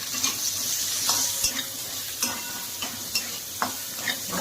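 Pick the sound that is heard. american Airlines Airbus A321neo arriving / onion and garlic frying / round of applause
onion and garlic frying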